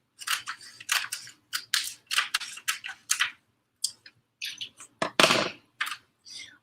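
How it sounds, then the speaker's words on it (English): Scissors snip through a sheet of furniture transfer in a quick series of close, crisp cuts with brief pauses between strokes, followed by a louder rustle of the sheet near the end. "let me cut this off of here"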